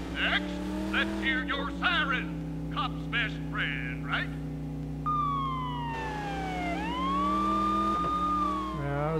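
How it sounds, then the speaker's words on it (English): A police car in the PS2 video game True Crime drives with its engine humming steadily while a wailing siren starts up partway through, rising and sweeping in pitch; a voice talks over the first half. "Usar a sirene aqui."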